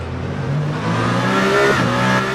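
Race car in the sim game Le Mans Ultimate at Bahrain International Circuit, braking hard through turn 9 into turn 10: a loud, continuous engine drone with shifting pitch, no voices.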